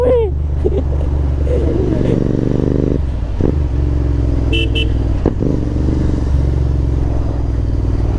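A 650 motorcycle fitted with a Rooster exhaust idles loudly and steadily up close, a deep throbbing drone that carries throughout while people laugh and talk over it at the start.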